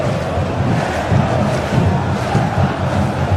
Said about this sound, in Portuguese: E a festa da torcida está belíssima aqui em São Januário